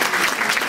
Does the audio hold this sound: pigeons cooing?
no